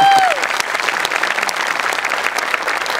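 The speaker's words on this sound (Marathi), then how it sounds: "जोरदार टाळ्या त्यांच्यासाठी एकदा." An audience bursts into loud, steady applause at a Marathi comedy show stage, sustained clapping that starts strong and holds through to the end.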